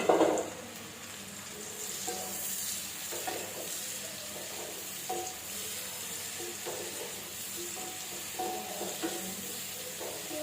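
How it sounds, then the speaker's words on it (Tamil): Sliced mushrooms sauté in melted butter in a kadai for a mushroom gravy, giving a steady close sizzle with intermittent scraping stirs throughout. "இந்த காளான் எடுத்து வச்சுருக்கோம்ல, இதை இதுக்கிட்ட போட்டு வதக்கி எடுத்துக்குவோம்"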